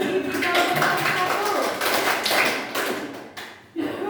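Students clapping in a classroom, a dense patter of hands that runs for a few seconds, dips briefly and then starts again near the end, with no talking over it.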